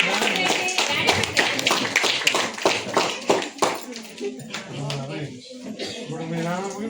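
A group of people clap in quick, uneven bursts of sharp slaps at a Christmas gathering, the applause fading into voices talking.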